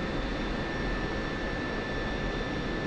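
An F-16C jet engine roars steadily at takeoff in the DCS World flight simulator, a dense continuous rumble and hiss with a faint high whine.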